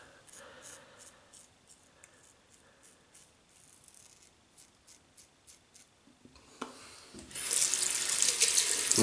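A Merkur 45 red and black Bakelite double-edge safety razor makes faint ticking scrapes before a tap starts running, rising to a loud steady gush of water as the razor is rinsed under it, close by.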